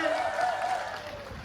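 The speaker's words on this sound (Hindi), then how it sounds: "दोनों हाथ से ताली बजा के श्रीमान हिमंता बिस्वा शर्मा जी का स्वागत करेंगे।" A crowd at a political rally applauding to welcome Himanta Biswa Sarma, a short burst of clapping with shouting voices mixed in, moderately loud and fading slightly.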